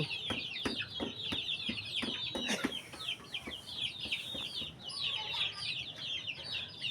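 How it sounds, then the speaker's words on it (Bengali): Free-range native chickens of all ages cluck and chatter continuously on a poultry farm, several birds at once, with scattered scratching and tapping sounds nearby. "মুরগির খামার দেশি মুরগির খামার"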